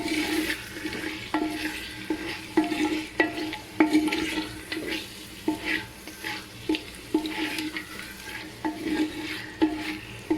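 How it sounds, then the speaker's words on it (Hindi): Mutton and tomato paste stirred and fried in a clay pot for handi pulao, with a steady sizzle broken by repeated scraping spoon strokes against the pot, close and fairly loud with no talking. "इसमें मैं शामिल करूँगी टमाटो पेस्ट, मिक्स कर लूँगी।"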